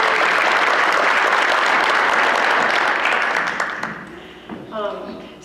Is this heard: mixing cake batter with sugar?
no